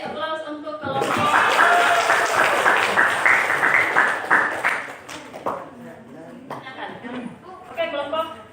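A classroom of students gives a group a burst of steady clapping lasting a few seconds, with voices talking over it and continuing after it fades.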